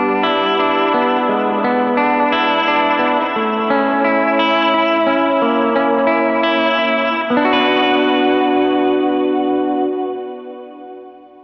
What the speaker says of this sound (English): Let's hear it with some delay and reverb.